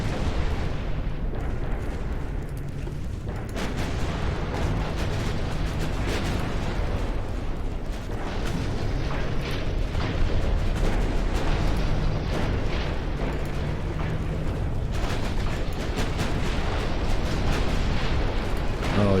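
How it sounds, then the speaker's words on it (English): Continuous heavy rumbling and dense booming from an Italian battleship exploding and sinking during a naval battle in Ultimate Admiral Dreadnoughts, loud and sustained with scattered sharp cracks of gunfire. "there goes one Italian battleship"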